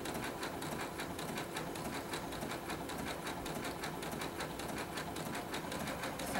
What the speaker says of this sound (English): So now you're just going to sew around your block using your applique stitch, or in my case I'm using the blanket stitch.